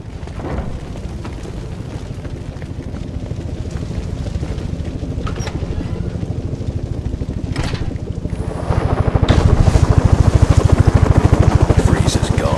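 A helicopter in the video game Batman: Arkham Origins thrums with a loud, steady rotor chop that swells louder near the end, with occasional bangs over it.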